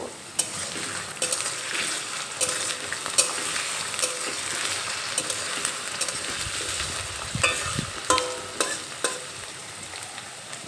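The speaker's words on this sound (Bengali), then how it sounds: "এই আলুগুলো এখানে তিন চার মিনিটের মতো ভেজে নেব" Potatoes frying in a pan for a chana dal dish, a steady sizzle with intermittent scraping and clinks as they are stirred, close and continuous with no talking.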